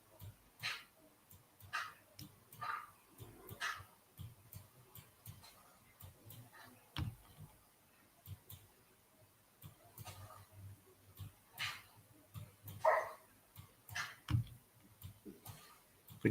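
A tamed wolf whines in Minecraft, giving short soft whimpers amid scattered clicking and digging taps, fairly quiet and with no talk.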